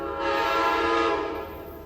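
Locomotive 209 sounds its horn at Cold Spring, a single sustained chord-like blast, loud and fairly near, fading slightly at the end.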